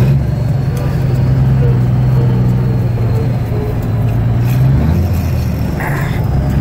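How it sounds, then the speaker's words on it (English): A 1977 Peterbilt 359 truck uses its Jake brake, a loud, close, continuous low engine drone that holds steady and then shifts near the end. "do have the best sounding Jake brake, that's for sure."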